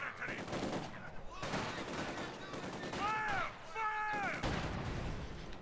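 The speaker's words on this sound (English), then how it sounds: "that must have been a bundle grenade up there in the north" Battle noise from a Company of Heroes 2 match, with rattling gunfire and heavy blasts such as bundle grenade explosions rolling on almost without pause, plus brief tonal in-game voice calls.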